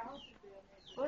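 Chickens clucking in a backyard behind a house, short soft clucks that come through faint and slightly distant, with a louder burst near the end.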